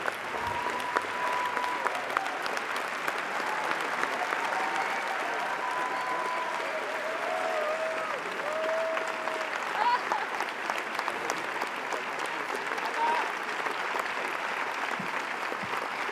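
At the Cannes Film Festival, a crowd gives a long, steady ovation to director Mati Diop and her team as they head into the theatre, dense applause continuing throughout with faint voices mixed in.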